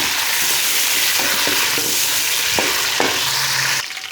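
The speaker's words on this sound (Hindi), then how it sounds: "चिकन हमारा हल्का फ्राई हो चुका है।" Chicken pieces fry for a karahi, a loud, close, continuous sizzle with a few soft knocks of stirring scattered through it, ending abruptly.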